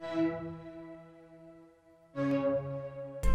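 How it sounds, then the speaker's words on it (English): A whistle-like pad synth layered from two Serum presets plays sustained, airy tonal chords that swell and fade, go quiet briefly, then return, ending on a sudden louder attack. "That's like a whistle pad."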